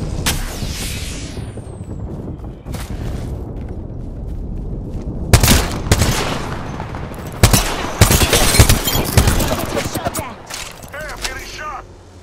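Rapid bursts of weapon fire in Apex Legends crack out in loud, uneven volleys with sharp peaks, while a player's voice talks between and over the shots.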